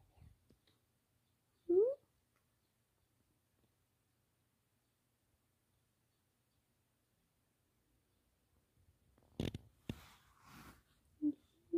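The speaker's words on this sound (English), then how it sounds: "Meowing and meowing." Cat meowing outdoors, a single short near meow early on, then faint shuffling and a couple more brief cries later against quiet background.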